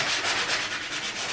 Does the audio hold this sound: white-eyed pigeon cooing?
no